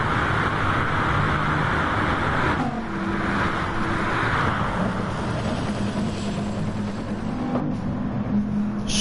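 Bugatti race car in a racing video game at Le Mans (La Sarthe), a sustained engine roar with shifting pitch and a brief gear change partway through, loud and continuous with no talking.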